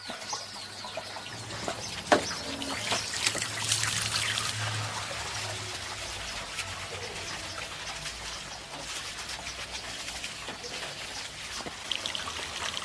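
Water rinses loose pine needles down a roof onto a gutter guard, giving a steady soft trickle and patter while birds, including cooing pigeons or doves, call throughout.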